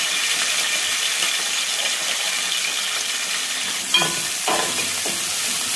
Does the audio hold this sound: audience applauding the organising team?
no